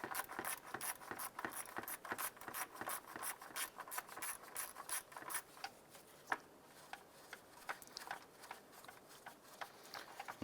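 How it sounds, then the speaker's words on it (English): A 10mm socket ratchet loosening the bolt on a 2001-2005 Honda Civic coolant expansion tank, quick repeated clicking strokes, close but faint, no talk. "Using a 10mm socket, we're going to go ahead and remove the bolt holding our coolant expansion tank right here,"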